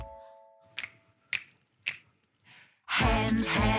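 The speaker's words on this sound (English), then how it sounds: "Can you make your fingers go snap, snap, snap?" Three crisp finger snaps evenly spaced in a children's body-parts song, followed by a faint fourth snap and then a loud burst of music.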